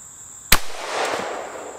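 A single .22 Magnum shot is fired at a bulletproof vest outdoors: one sharp loud crack, then a sustained echoing tail that fades slowly under a steady high insect-like whine.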